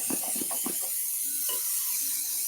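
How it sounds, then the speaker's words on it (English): Cooking spray hisses from an aerosol can into a silicone baking mold, a few short clicking bursts at first followed by a steady bright spray, close and loud with no talking. "You just want to make sure that you spray each individual one so it won't stick."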